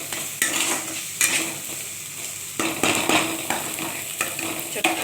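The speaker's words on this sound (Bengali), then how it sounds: "এদিকে আমার এটাও ভাজা, পেঁয়াজটাও ভাজা হয়ে যাচ্ছে।" Chopped onion frying in a pan with a continuous sizzle broken by a few sharp spatula scrapes and clinks, close and fairly loud, with no talking.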